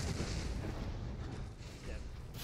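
A gunshot in Resident Evil 7 arrives as a muffled, low boom that blends into a continuous rumbling game soundscape, fairly faint overall.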